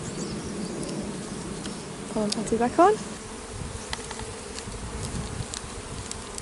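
Honey bees hum steadily around an open hive as it is fed a pollen patty, a close, continuous buzz with a voice speaking briefly partway through.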